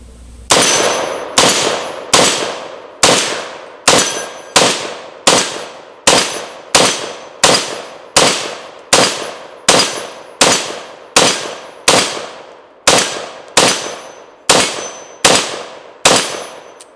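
Sharp, loud gunshots from a KS47 pistol fed from a Bulgarian magazine ring out in a slow, steady series of about sixteen evenly spaced shots at an outdoor range, each followed by a metallic clang of steel targets and a short decay.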